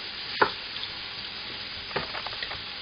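Moose meat sizzles in a pan for a stew, a faint steady frying hiss with a sharp clack near the start and soft stirring sounds later.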